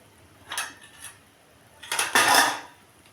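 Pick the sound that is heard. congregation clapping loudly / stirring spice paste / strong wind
stirring spice paste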